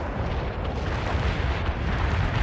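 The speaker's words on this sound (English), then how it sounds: "Be aware, napalm is on the way." A napalm strike in the real-time strategy game World in Conflict, giving a dense, continuous roar of fiery explosions and heavy rumbling, loud and sustained throughout.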